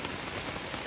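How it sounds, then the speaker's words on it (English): Rain falling at a trail shelter on the Appalachian Trail, a brief, soft, steady patter with no voices. "it did start to rain right before I got here to the shelter."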